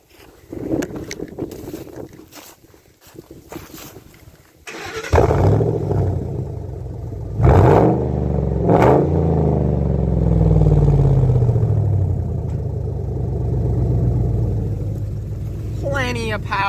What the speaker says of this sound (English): Now we're gonna fire her up.